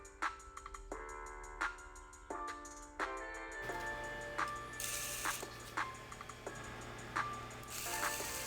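Ratchet tightening bolts on a cam gear of a 6.0-liter LS engine, with quick repeated clicking bursts and sharp metallic ticks in a close, quiet shop setting.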